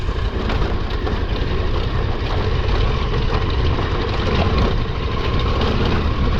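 A KTM 1290 Super Adventure motorcycle rolls off-road on the rough Macgruder Corridor trail, its engine a loud, close, continuous rumble mixed with a broad noisy wash of wind and terrain.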